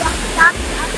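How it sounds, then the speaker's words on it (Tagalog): Waterfall rushing in a continuous broadband roar, close and steady, with a brief faint voice-like sound in the middle. "Ang ganda ng falls."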